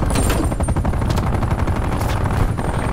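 An automated sentry turret lets loose rapid, sustained gunfire in a video game, a loud, steady stream of closely spaced shots that runs without pause.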